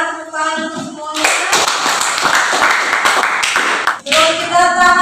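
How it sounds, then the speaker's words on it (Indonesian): A classroom of students claps hands together in a loud burst of brisk, overlapping claps lasting a few seconds, close and bright, with a voice speaking just before and right after. "tepuk tangan untuk semuanya"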